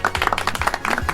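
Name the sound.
studio audience applause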